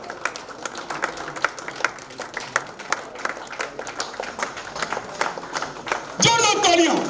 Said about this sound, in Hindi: एक जोरदार तालियों के साथ अपने अपने स्थान पर खड़े होकर एक जोरदार वेलकम